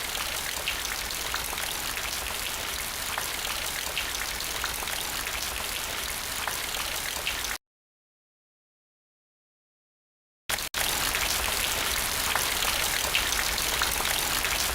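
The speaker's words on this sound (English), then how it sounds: "That must be what's causing the rain." Steady hiss of rain in the 1995 Pink Panther: Passport to Peril adventure game, continuous and even, cutting to a few seconds of silence before resuming at the same level.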